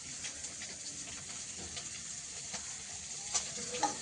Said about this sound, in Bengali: এদিকে ঝোলের মাছগুলো ভাজা চলছে